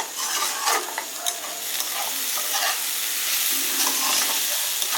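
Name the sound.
cabbage frying on high flame, Bengali recipe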